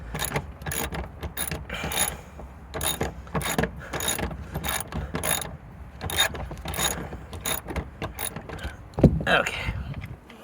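A ratchet loosens the third-row seat bolts in a 2008 Honda Pilot, its pawl clicking in rapid, repeated bursts up close, broken by short pauses between strokes.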